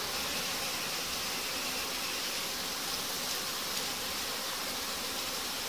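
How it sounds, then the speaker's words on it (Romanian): A honeybee colony buzzes steadily at a hive diaphragm in a queenless swarm, a continuous, even hum of many wings that sounds close and fairly soft, with no talk over it. "stă albina pe diafragmă."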